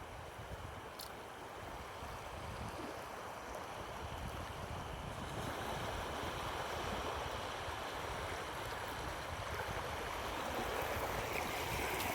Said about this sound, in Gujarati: આવે છે ભાઈ દરિયાના બધા મોજા